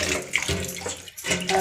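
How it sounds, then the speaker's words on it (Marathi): Water runs steadily from a tap over small leaves being washed by hand, a continuous splashing rush with brief dips and surges, close and moderately loud. "हे धुवून घ्यावे लागतील आपल्याला."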